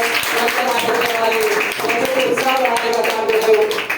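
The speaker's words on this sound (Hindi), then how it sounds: "उनके तालियों से स्वागत करते हैं" An audience at a school award ceremony claps in welcome for a guest, a dense patter of many hands sustained throughout, with voices mixed in underneath.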